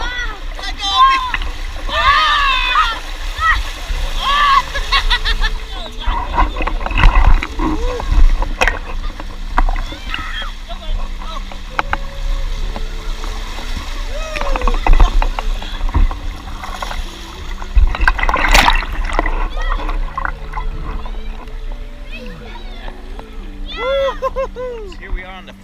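A kayak rides the river current down a rock slide on the Cape Fear River, with water rushing and splashing steadily throughout while an adult and someone talk and call out over it.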